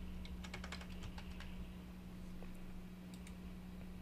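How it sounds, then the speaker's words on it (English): Quick bursts of computer keyboard keystrokes enter a number, a short cluster followed by a couple of later taps, over a steady low hum. "So let's type in 300."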